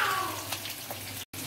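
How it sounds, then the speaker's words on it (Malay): Curry ingredients fry in a pan for beef curry with jackfruit, giving a close, continuous hiss and sizzle, briefly cut off near the end. "Ni kita goreng lah. Okey. Kita goreng."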